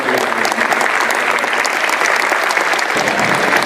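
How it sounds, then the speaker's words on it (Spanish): Loud, steady audience applause welcoming a panelist at a criminal procedure law event at a Peruvian superior court, dense continuous clapping from a full room throughout. "pido una bienvenida, un voto de aplauso y un agradecimiento."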